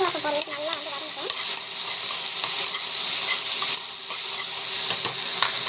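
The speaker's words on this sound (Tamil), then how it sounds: "ஸோ வெண்டைக்காய் வந்து இந்த மாதிரி வறுத்துக்கணும்." Okra sautés in oil in a pan, a loud, continuous close sizzle with stirring scrapes, and a brief voice at the very start.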